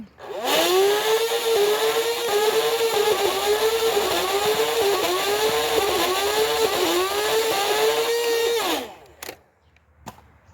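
Upgraded Nerf Hyperfire blaster firing short bursts, a sustained whirring flywheel motor with rhythmic dips in pitch as darts feed through, loud and close, then spinning down abruptly.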